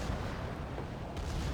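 Secondary guns on a warship firing in World of Warships, a dense continuous rumble of booming blasts with a sharper burst near the end, no voices.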